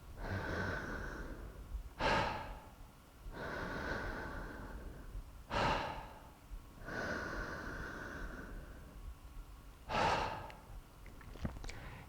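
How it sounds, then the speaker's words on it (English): Deep breaths drawn slowly into the belly, ribs and chest, three long, close inhales each ending in a sharp, forceful exhale, repeated in a steady cycle with no talking. "we're repatterning the breath and breathing in a more natural way where we breathe belly, ribs, chest, and let it go"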